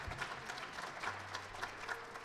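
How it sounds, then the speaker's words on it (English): At a jazz festival, an audience applauds student jazz musicians with steady, moderately distant clapping and a faint low hum beneath it. "give a round of applause for all these students"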